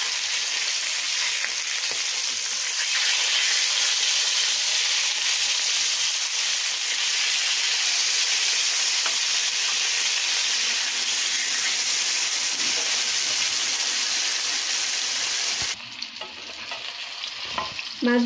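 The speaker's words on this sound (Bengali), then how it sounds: "মাছগুলো সব এইভাবে আমি সব মাছগুলো ভেজে নেব।" Hilsa fish pieces fry in hot oil in a pan, giving a loud, steady, dense sizzle that holds for many seconds close up, then breaks off near the end amid a few handling clatters.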